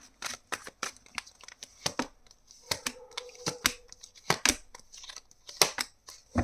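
Tarot cards being shuffled by hand, a run of crisp papery riffles and slaps that come in uneven bursts, close and fairly quiet, with no talk over them.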